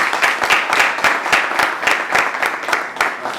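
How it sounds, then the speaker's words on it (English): An audience claps in a steady round of applause, dense rhythmic hand claps at close range throughout. "I'm going to give you a round of applause."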